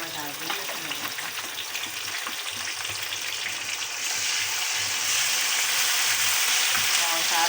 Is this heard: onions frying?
yes